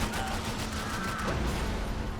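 Rapid gunfire crackles through a busy action scene in the video game Max Payne 3, dense bursts layered over constant background din, loud and close.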